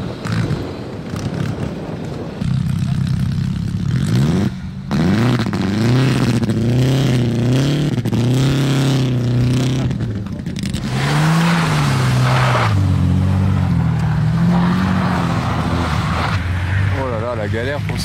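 Expensive concours d'élégance winning cars parade on ice, with engines heard up close revving and rising and falling in pitch one after another, mixed with wind noise and some talking.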